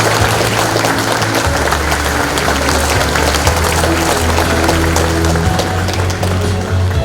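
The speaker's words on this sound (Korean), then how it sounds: "다시 한번 큰 박수 부탁드립니다" Steady, loud applause from a large audience at a 71st Constitution Day commemoration ceremony, a dense wash of clapping that holds evenly from start to finish.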